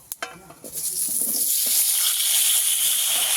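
Cut potatoes drop into hot oil already tempered with spices and homemade lentil dumplings, bursting into a loud, steady sizzle after a few brief clatters at the start.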